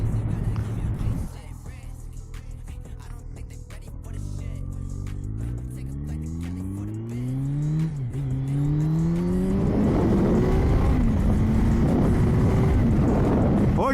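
A Kawasaki Z900 50th anniversary motorcycle with an SC Project exhaust pulls away, its engine note climbing through several rising gear sweeps, loud and close, the exhaust growl swelling into a heavy roar by the end.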